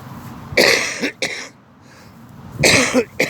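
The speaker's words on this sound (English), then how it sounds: "Excuse me for coughing" A person coughs up close: a pair of harsh, rasping coughs, a short quiet pause, then another rough cough.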